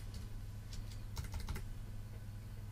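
Typing a reply on a computer keyboard, with a quiet scatter of key clicks that thickens into a brief flurry in the middle, all over a steady low electrical hum.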